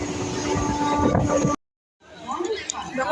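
A train at Bandel station rumbles and clatters loudly up close, then cuts out abruptly before returning as quieter rail noise with some background commotion.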